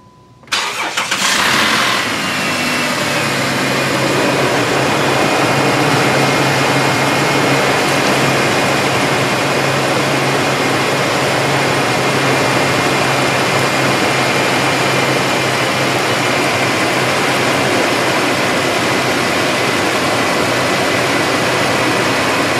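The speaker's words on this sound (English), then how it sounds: "then we'll go ahead and start the vehicle up and do our flush" A 2007 Dodge Dakota engine cranks and fires within the first second, then settles into a steady, loud idle that runs continuously with no talking.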